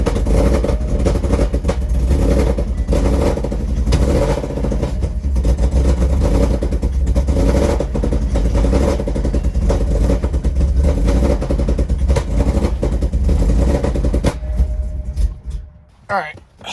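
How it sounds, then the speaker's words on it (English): Ghost-cammed Ford Mustang GT V8 with headers and Corsa Sport exhaust idling after start-up, a loud lumpy rumble with an uneven lope that carries steadily before cutting off abruptly near the end. "All right, so as you can see, the car started up."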